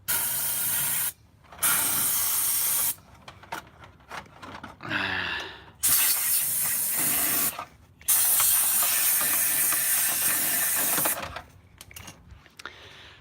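Compressed air blasts dust out of a Dell Dimension XPS T500 desktop computer in loud close bursts of hiss, several long sprays separated by short pauses and small handling noises.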